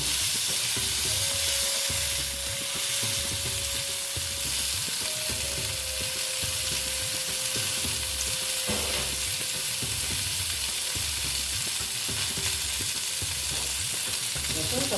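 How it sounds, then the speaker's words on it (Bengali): Slices of pointed gourd (potol) fry in hot oil in a pan, a steady close sizzle and crackle running the whole time with faint stirring, no talking over it. "এবার মোটামুটি আমার ভাজা হয়ে গেছে এগুলোকে আমি তুলে নেব"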